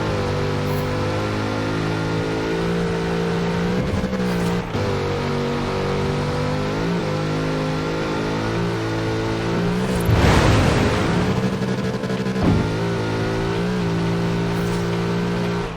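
A big Chevrolet engine in Forza Horizon 4 drones steadily with a deep, sustained hum that shifts pitch slightly, swelling into a louder rush around the middle, with no talking.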